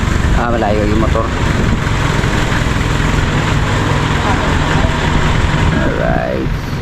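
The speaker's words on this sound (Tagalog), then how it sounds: "Malayo yung motor." A motorcycle engine hums steadily at a sand and gravel delivery site, a sustained, fairly loud running drone throughout, with people's voices rising over it.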